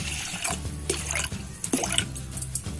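Water poured into a pot of raw lentils for washing, a close, splashy trickle with drips at moderate loudness, in a kitchen while preparing raw mango dal.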